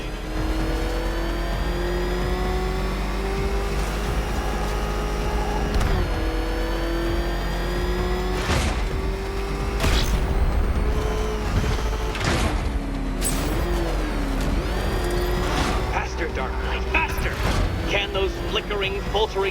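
An old, ramshackle car motor in a game revs continuously at high pitch, rising and dipping with several sharp mechanical clunks and whooshes over about twenty seconds, loud and close.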